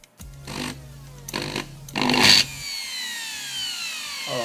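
A repaired electric drill with a faulty speed regulator is switched on from mains power. Its motor whines up in three short, loud bursts, ending in a longer roar that cuts off and winds down into a fading, falling whir.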